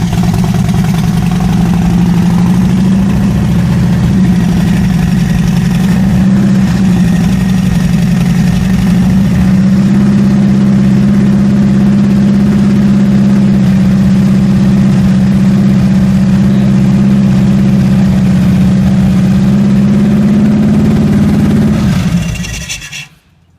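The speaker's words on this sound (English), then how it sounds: "we're going to start the vehicle" Car engine idling while old oil is flushed out during an oil change, a loud steady low hum held close for about twenty seconds before the motor is switched off and falls silent.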